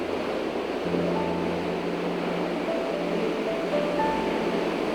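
Ocean surf rolls in steadily at the mouth of the Jesús María river where it meets the sea, a continuous wash of waves heard at moderate distance with no voices.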